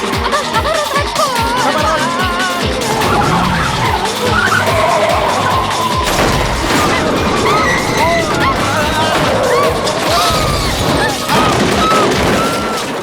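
A car skids and crashes in a film scene, with dense, loud tire and impact noise running throughout and voices mixed in.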